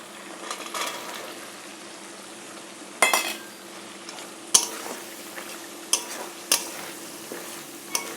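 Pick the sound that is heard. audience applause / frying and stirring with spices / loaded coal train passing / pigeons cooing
frying and stirring with spices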